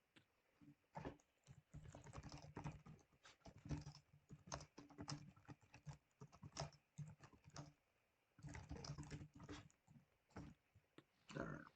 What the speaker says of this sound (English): I was just typing to the peeps.